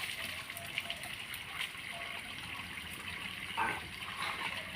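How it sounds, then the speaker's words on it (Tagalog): Spring water from underground runs in a steady, gentle gush with soft trickling, a constant outdoor flow heard close by. "Dire-diretso lang tubig dito. Bukal to galing sa ilalim."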